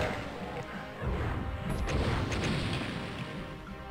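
Homing fireballs fired in the game Doom II, heard as heavy booming impacts and crashing blasts layered over a continuous rumble of game noise, loud and dense with no talking.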